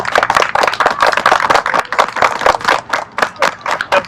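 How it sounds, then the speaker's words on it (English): An audience at a Cub Scout Arrow of Light and bridging ceremony gives a round of applause, many hands clapping briskly and steadily at close range, loud throughout. "let's give them one more round of applause."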